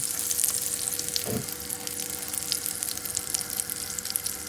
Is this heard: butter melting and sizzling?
yes